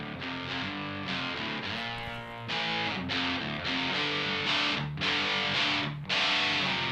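Electric guitar through a Wampler Triple Wreck distortion pedal set low at 9 o'clock, playing sustained distorted chords with a few brief breaks between strums, loud and alone.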